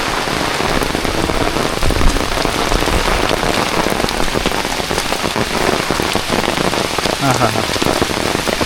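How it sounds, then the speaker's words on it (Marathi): Heavy monsoon rain pours steadily in a Konkan village, a loud, dense, unbroken roar of drops on surfaces throughout, with a brief murmured voice in the middle. "जोराचेच सर आले"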